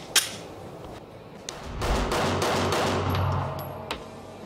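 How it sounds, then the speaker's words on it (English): Pistol shots fired from 21 feet using a Salient Arms Tier 2 trigger of 3.5 pounds, sharp reports with a dense burst in the middle, ringing loudly on an outdoor range. "fire string of 5 rounds, but we're going to do this one at 21 feet"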